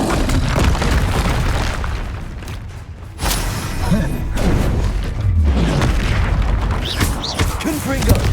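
Spell explosions from Bombarda and Confringo in the Hogwarts Legacy video game boom repeatedly through dense combat noise, loud and close, with spoken incantations and game voices mixed in.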